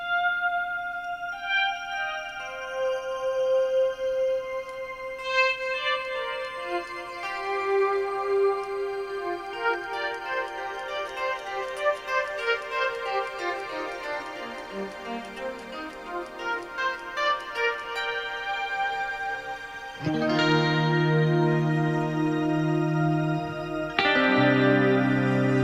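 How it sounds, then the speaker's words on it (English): Clean electric guitar notes ring through a lush pitch-shifted reverb, stacking shimmering higher harmonies into a dense, sustained wash, with fresh chords struck near the end. "just have a listen to how ridiculous this reverb sounds"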